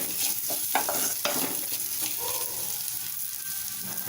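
Onions sautéing in a pan for a mushroom gravy, with a steady close sizzle and a few sharp spatula scrapes and clinks against the pan throughout.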